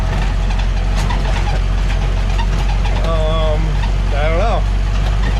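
An old Jeep's engine runs steadily during a test drive, a loud continuous low drone with mechanical clatter, while someone briefly speaks over it.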